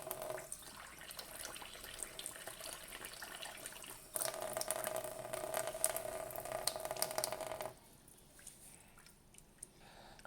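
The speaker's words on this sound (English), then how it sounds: "So you can see it's still bubbling." Water bubbles and trickles as it fills a new water filter in a GE refrigerator, a steady gurgle that grows louder for a few seconds midway, then drops back to a softer fizz.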